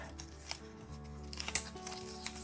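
AirPods Pro wireless charging case box being unwrapped, a short run of faint close crinkles and a sharp plastic snip or tear partway through over a low background hum.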